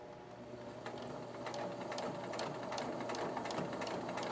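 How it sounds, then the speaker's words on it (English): A sewing machine runs steadily for a school sewing project, its needle thumping in a quick, even rhythm with a soft motor whir, close and fairly quiet with no talking. "So I'm going to start about 1/4 of an inch down from the beginning, go 3 in reverse, and begin sewing."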